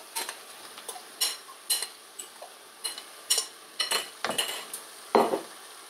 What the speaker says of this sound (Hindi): इसको करेंगे अच्छे से मिक्स और हल्का हल्का सा इसे कूट लेंगे साथ आलू भी हल्के साबुत हों और हल्के कुटे हुए